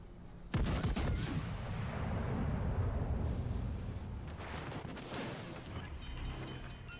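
Naval gunfire in the World of Warships: Legends video game opens with a sudden heavy boom, followed by a rolling, rumbling barrage that slowly fades with scattered further blasts.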